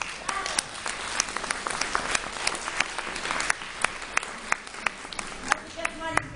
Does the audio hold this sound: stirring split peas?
no